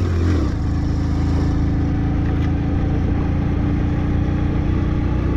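A Hero Passion Pro 110cc motorcycle labouring uphill on a high-altitude road to Ladakh, its engine a steady, strained mid-pitched drone held throughout, close and unbroken.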